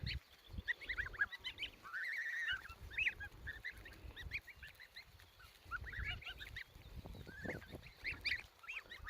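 Goslings and geese on a small poultry farm call in a busy mix, with repeated honks and softer peeps overlapping throughout at close range. Low shuffling and handling noise sits underneath.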